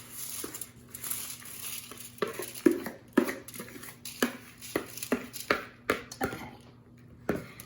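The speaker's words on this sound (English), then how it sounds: "Now I'm just gonna add this all to my baking pan." Chia seed granola mixture is tipped and scraped into a baking pan, giving a run of close, uneven scrapes and knocks that grow more frequent toward the end, with no talking.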